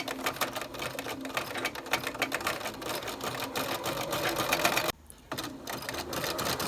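A sewing machine stitches lace onto a rolled and whipped hem with pinstitching, a close continuous rapid chatter running steadily, broken by one brief stop near the end before it resumes.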